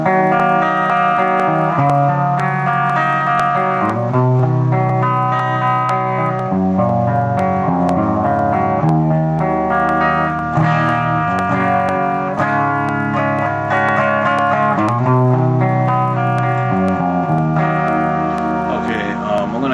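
A clean electric guitar through a Digitech RP255 '65 Twin Reverb amp model, with a spacious, glassy tone, plays chords and melodic lines continuously, full and present, with a light reverb tail.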